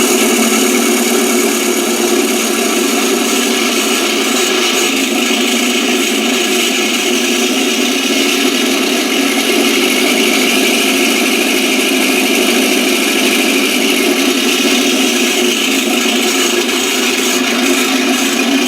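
MrRCSound ASPIRE sound module plays a simulated aircraft engine, a loud steady droning rumble with constant tone and no speech, holding unchanged throughout.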